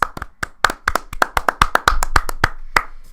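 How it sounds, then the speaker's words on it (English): A small group claps, giving a round of applause of sharp, uneven claps that build and thin out over a few seconds, with no voices. "Let's just take a minute to give him a round of applause"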